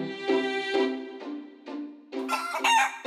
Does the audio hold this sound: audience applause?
no